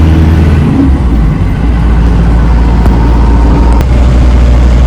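A Ford 347 V8 project car pulls away after a gear shift, its engine rumbling loud and close inside the car. A sustained low drone continues under light road noise, with no speech.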